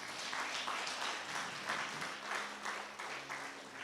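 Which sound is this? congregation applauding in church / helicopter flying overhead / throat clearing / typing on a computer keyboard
congregation applauding in church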